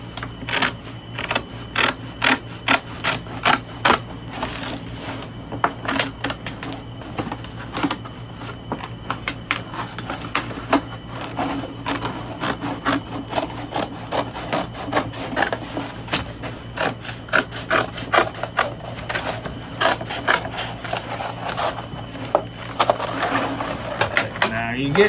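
Rawhide being cut for a Bowie knife sheath, a long run of sharp, rhythmic crunching snips and clicks close by, with a person talking at intervals over the cutting.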